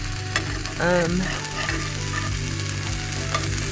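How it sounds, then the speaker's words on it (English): Oil sizzles and crackles steadily as chopped onions and bell peppers fry in a skillet for a Philly cheesesteak, with a brief stirring scrape near the start. "some onions and some bell pepper in the pot, in the skillet, and now sizzling"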